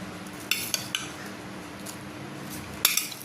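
Cut apple pieces dropping into a bowl while making fruit custard, a few brief, bright clinks and taps of fruit and utensil against the dish in an otherwise quiet kitchen.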